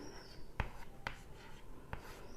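Chalk or marker tapping and scratching on a board as examples are written during a Hindi grammar lesson on guna sandhi: three distinct taps amid faint stroke noise, quiet and close.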